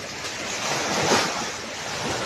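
Ocean surf washing onto the shore of a beach resort on Samal, a broad rushing hiss that swells and recedes, mixed with wind buffeting the microphone.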